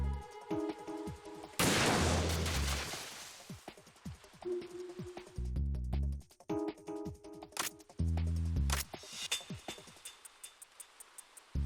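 Rapid gunfire bursts in the video game Metal Gear Solid 2, loud and close, with sharp repeated shots and a heavy blast, mixed with music or game effects and no talking.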